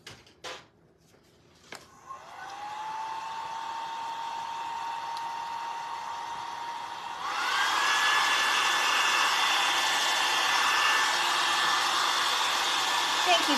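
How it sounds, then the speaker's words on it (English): Hair dryer blowing steadily on a rustic farmhouse church craft, running alone at a constant whir before stepping up to a louder, higher setting partway through. "let me quickly dry this,"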